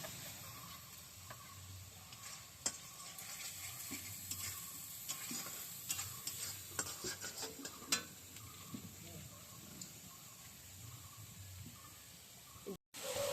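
Cumin and coriander paste fries in oil for a taro curry, a soft continuous sizzle close by, punctuated by sharp clicks and scrapes of a spoon stirring the pan, no voices.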